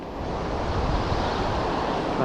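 Sea waves wash steadily at a fishing spot, a continuous broadband rushing surf with wind noise, fairly loud and close, with no talk.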